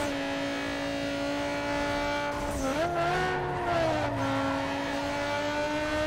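Modded race car engine in Need for Speed Underground 2 roaring steadily and loud, its pitch dipping and rising with revs through gear shifts for several seconds, with no talk over it.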